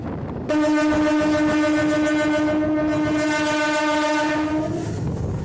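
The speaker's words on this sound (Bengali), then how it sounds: "সামনে থেকে আসছে ডাব্লিউ এজি টুয়েলভ লোকোমোটিভ অর্থাৎ বারো হাজার হর্স পাওয়ারের লোকোমোটিভ আসছে উইথ মালগাড়ি" Loud, sustained electric locomotive horn blares for several seconds as a WAG-12 12,000 hp electric locomotive passes with a goods train, its steady tone over rumbling wagons.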